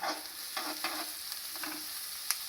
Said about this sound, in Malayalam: മൂപ്പിച്ചെടുക്കാം കേട്ടോ നല്ലോണം ഉള്ളിയൊക്കെ നല്ലോണം ആവട്ടെ